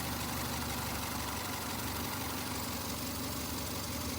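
A Toyota Sera's engine idles steadily with a low, even hum and faint vibration, quiet and close, no voices over it.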